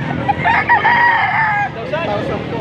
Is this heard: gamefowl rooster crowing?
yes